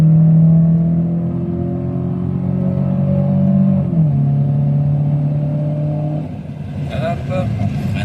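A Citroën Xsara with an automatic gearbox accelerates hard, its engine droning and rising in pitch, dipping at a gear change and climbing again. Someone talks over it inside the car.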